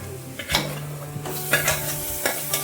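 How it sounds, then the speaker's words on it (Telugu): Ground amaranth leaf paste stirred into roasted onions in a pan for thotakura pulusu, with a few spoon scrapes and soft sizzling under a steady low hum, no talk. "ఇప్పుడు మనం ఆల్రెడీ రుబ్బి పెట్టుకున్న తోటకూరని అయితే దీంట్లో వేద్దామండి"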